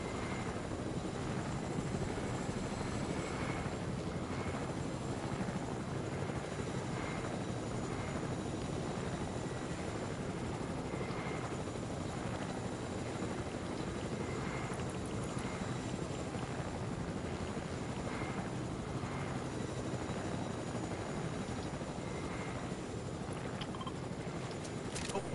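A helicopter in a video game drones continuously, its rotor thumping in a steady rapid pulse under a dense, loud engine roar that never lets up.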